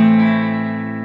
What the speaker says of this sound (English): This is the sound of the neck pickup.